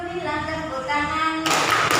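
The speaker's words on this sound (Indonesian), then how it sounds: "369 Bibi tepuk tangan." Students in a class break into quick group hand clapping in a 3-6-9 rhythm, a short loud burst arriving at the end after a stretch of voiced background sound.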